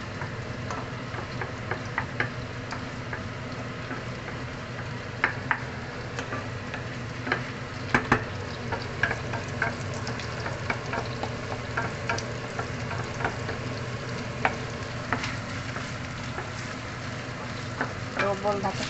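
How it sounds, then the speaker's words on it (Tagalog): Onions sizzle steadily in a hot pan while being stirred, a dense continuous frying hiss dotted with small pops and utensil ticks throughout. "Fried muna natin yung ating onions."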